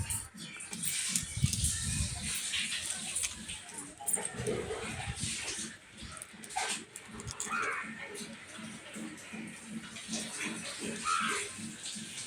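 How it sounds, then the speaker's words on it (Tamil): Water is poured into basmati rice cooking with sautéed chicken, a continuous splashing, pattering stream under a rhythmic clatter, with a voice talking faintly at moments. "தண்ணி ஊற்றுறோம்."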